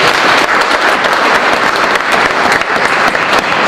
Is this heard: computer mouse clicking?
no